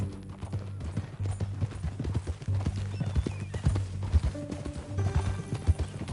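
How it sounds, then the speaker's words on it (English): Horse hooves clip-clop steadily in Red Dead Redemption II, with a brief whinny from the horse and a low, continuous background drone from the game. "That new horse?"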